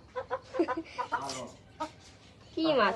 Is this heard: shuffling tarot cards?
no